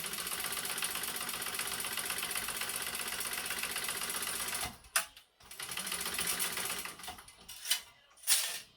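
A sewing machine runs in a steady, continuous whir while stitching a Nyx clutch bag, then stops and restarts in shorter bursts with brief pauses near the end.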